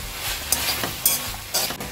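Shishito peppers are tossed with pork neck and whole garlic in a pan, with a close, loud sizzle and quick, regular scraping strokes.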